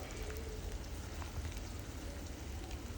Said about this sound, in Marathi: मस्तपैकी हा ठेचा असा भाजून घ्यायचा आहे तेलामध्ये.